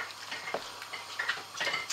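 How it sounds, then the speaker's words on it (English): Bolognese risotto being stirred in a pan, with soft scraping and clinking of a utensil over a quiet sizzle, a few light irregular strokes close by. "we'll just give that a stir and cook for 5 minutes"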